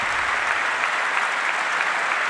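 Steady, dense applause from a large audience in the chamber during the State of the Union address, continuous and evenly loud throughout the short stretch.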